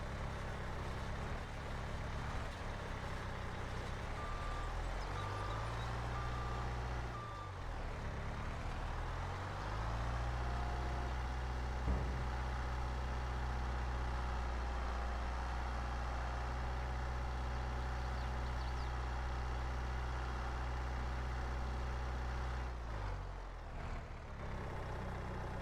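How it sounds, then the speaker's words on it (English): A Bobcat skid steer in the video game Farming Simulator 22, a steady low diesel engine drone as it crosses a field, rising slightly in pitch midway and holding constant for the whole stretch. "Would be nice, I suppose, if the Bobcat went a little faster through the field here"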